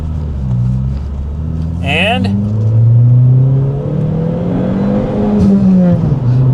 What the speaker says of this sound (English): She will redline all day.